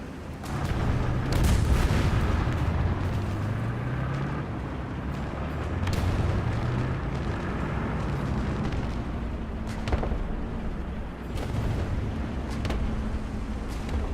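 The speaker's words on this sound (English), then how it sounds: "I'm like hearing tanks over here" Tanks in the video game War Thunder, a steady heavy rumbling engine drone with rising and falling pitch, joined by occasional distant booming cannon shots throughout.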